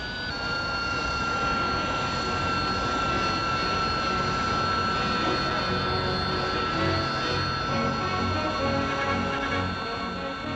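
A 1960s British Kestrel vertical take-off jet, able to hover in flight, produces a steady, loud engine roar with a high whining tone that holds without a break for about ten seconds.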